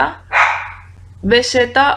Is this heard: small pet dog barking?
yes